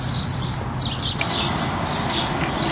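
Birds chirping and singing steadily among cypress trees in Louisiana, a continuous layer of small high calls over a low rumble of background noise, with no talking.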